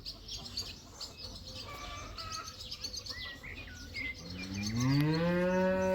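A tall, calm dairy cow lets out one long, loud, deep moo near the end, rising out of a quieter background of small birds chirping.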